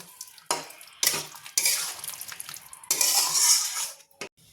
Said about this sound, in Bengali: এবার এই গ্রেভির সাথে ভালো করে এটা মিশিয়ে দেবো